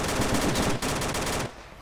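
Pistol gunfire in the DayZ video game, a loud rapid burst of shots that briefly cuts out, resumes, then stops.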